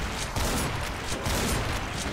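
Rocket explosions in Doom, a rapid cluster of loud blasts and bursts rolling one into another over continuous rumble, close and harsh.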